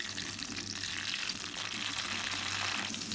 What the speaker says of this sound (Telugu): చిల్లీస్ లైట్గా వేగాయి.